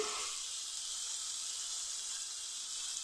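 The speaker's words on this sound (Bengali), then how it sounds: "আমি আলুটা ভালো করে ভেজে নেব" Potatoes sprinkled with salt fry in a pan, giving off a steady, close sizzle and hiss that holds evenly throughout, with no voices.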